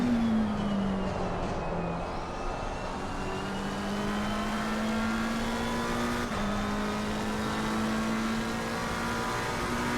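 A race car on track sounds its engine loudly and continuously, the tone falling as it brakes and then climbing again as it accelerates, heard up close with no talk over it.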